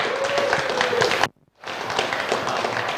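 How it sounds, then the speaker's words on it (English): Dense crowd applause at a motor racing event at Donington Park fills the space, breaking off briefly into silence before resuming just as loudly. "Big round of applause for Luke."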